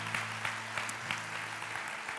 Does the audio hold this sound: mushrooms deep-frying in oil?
no